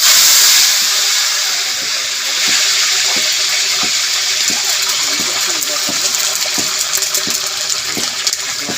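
Green chilies sizzle in hot oil in a pan, a loud continuous hiss broken by many small crackling pops.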